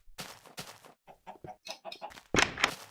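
Minecraft chickens on a game chicken farm give a string of short, quiet clucks in an irregular rhythm, ending with a couple of louder, harsher squawks.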